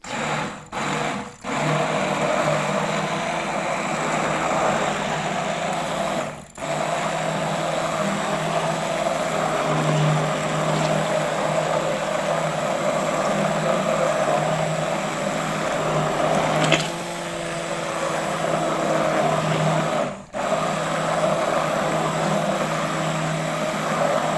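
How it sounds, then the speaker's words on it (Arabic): An electric hand blender purees a pot of lentil soup with potato, tomato, onion, garlic and pepper. It gives off a steady whirring drone that cuts out briefly a few times, with no speech. "احط الهاند بلند"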